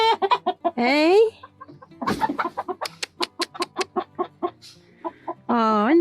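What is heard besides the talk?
black rock hen clucking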